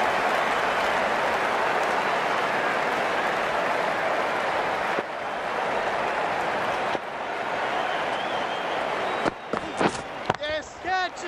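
Crowd at a Big Bash League cricket match between Perth Scorchers and Brisbane Heat cheering and applauding in a loud, sustained roar of claps, with a commentator talking over it and sharper sounds near the end.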